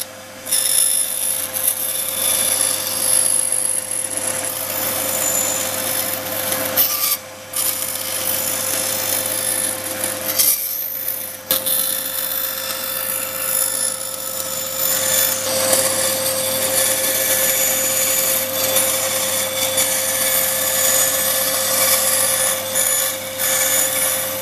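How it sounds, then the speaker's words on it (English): A bandsaw cuts small grooves into a wooden stag head piece, a loud steady whine with rasping blade-on-wood cutting, broken by a few short pauses as the wood is repositioned. "I'm just going to do those in the bandsaw"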